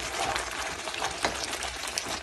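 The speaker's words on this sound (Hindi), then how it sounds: "इसमें तेल डालेंगे 2 सर्विंग स्पून" Two serving spoons of cooking oil go into a pot of softened, dried-down food, giving a close, steady liquid rush and light sizzle that fills the moment, with no one speaking.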